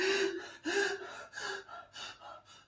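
A voice imitates panicked, gasping breaths during a shiatsu client support session: about five sharp, ragged inhalations in quick succession, close and fairly loud, each one shorter and softer than the one before.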